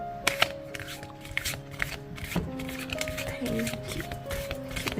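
Angel oracle cards shuffled by hand during a tarot-style reading, quick papery riffles and flicks in close bursts, with a voice speaking over them.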